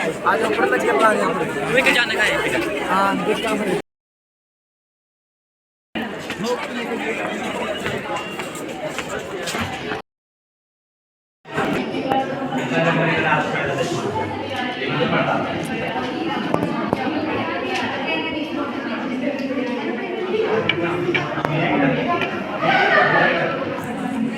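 Dense crowd chatter fills a college during exams, a steady babble of many voices nearby, broken by two short silent gaps before continuing.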